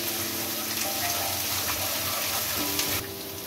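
Onion with ginger-garlic paste fries in a pan for an aloo gola kabab curry, making a loud, close and steady sizzle that continues throughout.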